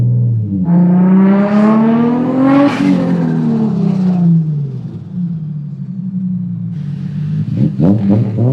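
A Nissan Nismo R34 GTR with a Z-Tune kit revs hard, its engine note climbing sharply, peaking, then falling off into a lower drone before picking up again, loud and close, with no talk over it.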